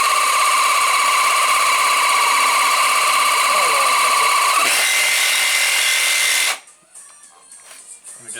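A power tool grinds steadily through a Saab 900 motor mount for about six seconds, loud and close with a shifting pitch, then cuts off to quiet shop noise and small clatters.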